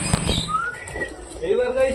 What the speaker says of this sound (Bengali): এবার আমরা সব কটা পায়রাকে ছেড়ে খেতে দিয়ে দিই ওদের